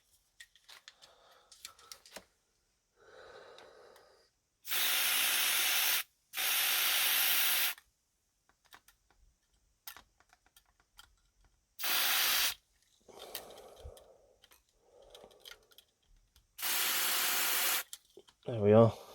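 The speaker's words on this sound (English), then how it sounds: "Let's grab my contact cleaner, which is over here." Contact cleaner sprayed onto a switch inside a PYE V2000 VCR: several loud hissing bursts of one to two seconds each, spaced apart, with quiet handling and clicks between them.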